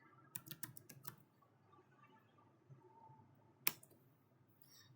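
Quiet computer keyboard typing as a command is entered in Packet Tracer to configure a network switch: a short run of soft key clicks, then one sharper keystroke a few seconds later over faint room hiss.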